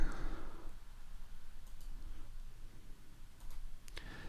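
Computer keyboard typing, a quick run of light clicks with a short burst near the end, close and fairly faint with no voices.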